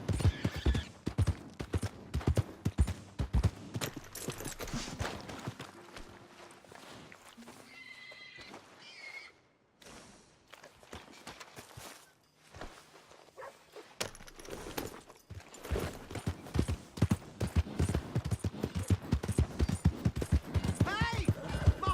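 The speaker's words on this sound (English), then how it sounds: "Here's your horse back, friend." A horse in the video game Red Dead Redemption 2 clip-clops and whinnies close by, hoof beats pattering in uneven bursts around a short lull. A voice speaks over parts of it.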